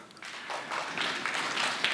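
A seated workshop audience clapping for themselves, a fairly soft but dense patter of many hands that rises after a brief pause and holds steady for under two seconds.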